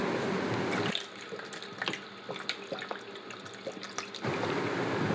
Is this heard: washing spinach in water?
yes